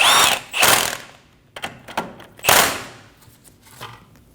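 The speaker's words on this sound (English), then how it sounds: "Using a 19mm socket, we're going to snug down the outer tie rod nut" A 19mm socket snugs down the outer tie rod nut on a 2012-2022 Volkswagen Passat steering rack, giving a few sharp ratcheting and clanking bursts with short pauses between them, close by and with no talk.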